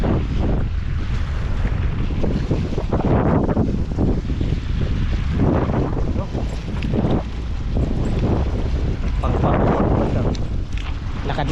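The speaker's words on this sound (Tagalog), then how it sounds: "Sarap ang hangin." A strong sea wind blows across a seafront where ships anchor, buffeting the microphone in loud, continuous gusts that swell and ease, with a wash of waves beneath.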